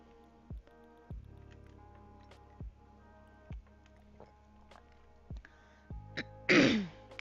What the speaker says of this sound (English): I'm clearing my throat in your ear.